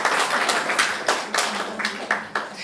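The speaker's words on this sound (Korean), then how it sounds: "우리 박수 한번 치겠습니다." A church congregation at a New Year's Eve watch-night service claps in a light, scattered patter of a few distinct hand claps, moderately close, with faint voices underneath.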